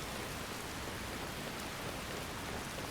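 Steady, dense rainfall in Skyrim, a continuous even hiss of rain with no breaks and no talking.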